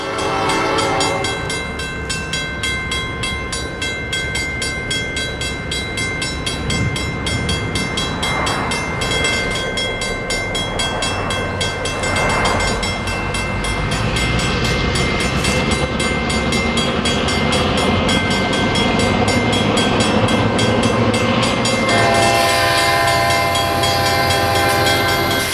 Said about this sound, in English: the arrival and departure of Train 710 behind a pair of former SP FP7s